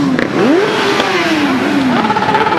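Motorcycle engines rev at a large motorcycle gathering of more than a hundred bikes in Amsterdam, with rising and falling throttle sweeps, loud and close, over a steady engine rumble.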